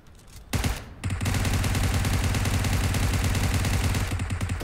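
Gunfire in the video game PUBG Mobile: a short burst, then loud, dense automatic fire rattling nonstop for about three seconds, close and with no talking.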